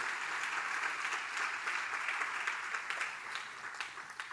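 A church congregation applauding together at a sermon, dense sustained clapping from many hands filling the room at steady loudness throughout.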